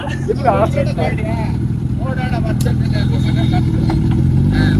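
Superbikes, a Kawasaki Z900 and a Hayabusa, idle nearby with a steady, deep engine rumble that continues under loud, excited voices.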